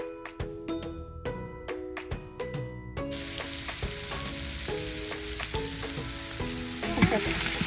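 Bacon frying in a pan for fried rice, a steady crackling sizzle with sharp spatters and clinks of a utensil, the frying growing denser and louder partway through.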